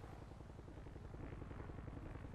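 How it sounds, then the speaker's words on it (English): A helicopter's rotor chops in a fast, even rhythm in a video game, a faint steady thrum with no talk over it. "Oh, they have two helicopters."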